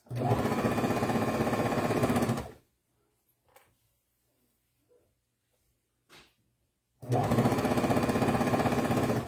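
A home sewing machine stitches through four layers of fabric on a breastfeeding bra, running in two loud, steady bursts of about two seconds each, with near-silent pauses and faint handling noises between them.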